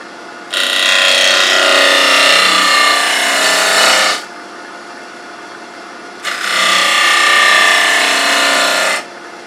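Wood lathe turning a three-corner bowl, with a tool held perpendicular to the bowl's face at raised speed: two long, loud bursts of scraping, rasping cutting, each about four seconds, separated by a brief quieter pause where the motor runs alone.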